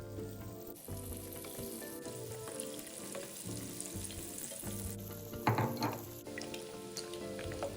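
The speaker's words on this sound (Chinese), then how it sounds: "再将预先备好的鸡翅膀放入油炸" Oil sizzles steadily as batter-coated chicken wings deep fry over medium heat, a dense constant crackle with a soft musical tone running beneath it.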